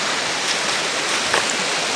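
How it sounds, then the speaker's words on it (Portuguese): A waterfall and stream rush in a dense, even roar close by, heard alone without speech for the whole stretch. "Já vai escutando aí ao fundo o barulho da água."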